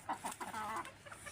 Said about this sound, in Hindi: तो ये देख रहे हैं अभी खा रहे हैं मुर्गे।